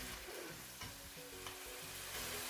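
Tomatoes fry in a pan with garlic ginger paste for a chicken chana dish, giving a steady, close sizzle with soft stirring scrapes throughout and no voices.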